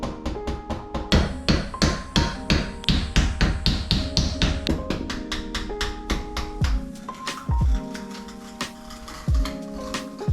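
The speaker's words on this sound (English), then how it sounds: "I'm gonna pry this mirror off the wall by tapping some shims behind it until it loosens up." A hammer taps shims behind a wall mirror in a Japanese wash station, giving a fast run of sharp, ringing knocks that slows to a few heavier strikes.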